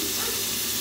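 Beans with garlic and oil sizzle in a hot pan, giving a loud, steady, broadband hiss that runs unbroken throughout the moment.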